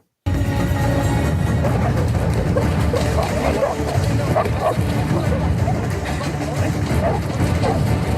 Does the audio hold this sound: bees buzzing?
no